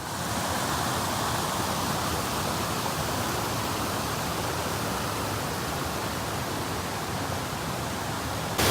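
The fast-flowing Tanew river in Roztocze, Poland, rushes with a loud, steady, unbroken roar of water close by, with no other sounds standing out.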